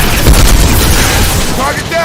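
A concussive shot ability fires in a video game firefight, a heavy booming blast over dense, noisy combat din with voices talking, the impact thudding loud and close early on before the roar settles.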